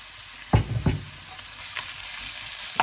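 Whole garam masala and crushed spices tipped into a pan of onions frying until lightly browned for chicken bhuna, a few sharp stirring scrapes and clatters over a soft, steady sizzle, no voices.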